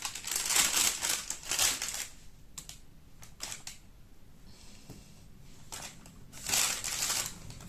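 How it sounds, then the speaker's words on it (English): Paper bag crinkling close up in several short bursts with quiet pauses between, rustling and crackling at moderate volume with no talking. "this is in a paper bag that crinkles a bit"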